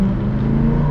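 Tuned diesel truck engine rumbling close by, a loud, steady low-pitched drone for about a second with no voices over it.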